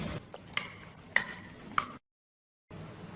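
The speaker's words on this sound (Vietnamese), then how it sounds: "Để trộn đều lên." A spoon scrapes and clicks through a beef marinade of bell pepper, crushed garlic juice and sesame oil in a bowl, three distinct strokes close up, followed by a short silence and a soft resumption.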